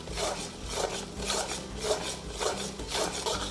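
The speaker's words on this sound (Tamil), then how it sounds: "ஸோ இது விடாமல் இப்படியே கிண்டிகிட்டே இருக்கணும்." A spoon scrapes around a pan as a kaju katli mixture of cashew and sugar is stirred continuously, making a close, steady rasping that repeats in regular strokes, with no talking.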